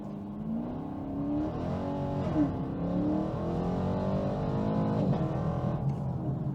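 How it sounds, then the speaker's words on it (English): A 2002 Pontiac Firebird Firehawk or 2016 Chevrolet Camaro 2SS V8 accelerates hard through a 0 to 60 mph run, the engine note rising steadily, dropping at each gear shift, then climbing again, heard loud and continuous from inside the car. "We're doing a 0 to 60 run, same day, same stretch of road."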